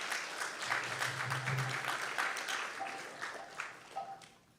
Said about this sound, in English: So a big round of applause for all the cooks.